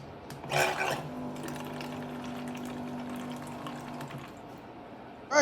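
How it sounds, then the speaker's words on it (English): A small battery-powered automatic water dispenser pump for car camping hums steadily for a few seconds while water pours, with brief louder handling sounds at the start and end. "we've got the automatic water dispenser"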